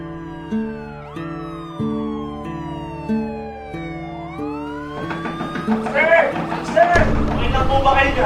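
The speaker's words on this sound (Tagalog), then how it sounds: "yung tunog ng mga pulis na parating" Police sirens wail and sweep in pitch as the vehicles approach, starting clear and building louder and busier as crashes and commotion pile in toward the end.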